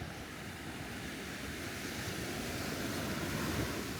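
Rough sea waves wash steadily onto Klong Moen Beach on Koh Lanta, a continuous broadband surf roar with wind noise and no voices.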